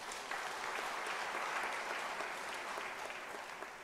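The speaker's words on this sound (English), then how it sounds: "Can we at least applaud?" An audience at a university's academic-year opening ceremony applauds in an even, sustained patter of many hands. It sounds distant and fairly quiet, with no talk over it.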